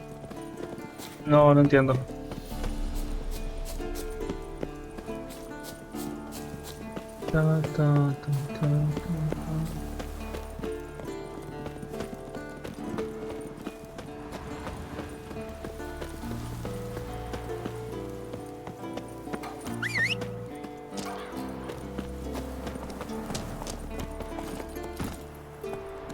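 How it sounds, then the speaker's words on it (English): Horse hooves clip-clopping with an occasional whinny in The Witcher 3, heard as game audio beneath steady music, with a person talking over much of it. "El caballo."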